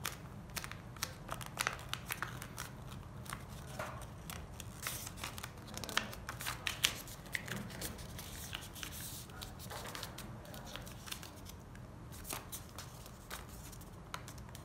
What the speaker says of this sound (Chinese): 对折一下。